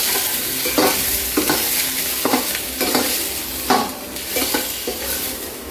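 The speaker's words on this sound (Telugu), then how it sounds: "చిటికెడు పసుపు, చిటికెడు పసుపు, ఎగ్స్ని ఇప్పుడు స్టవ్ మీద పెట్టేసుకుందాం" Eggs cook in oil with a pinch of turmeric in a pan on the stove while making egg biryani. A steady sizzle runs beneath repeated scraping stirs and metallic utensil knocks.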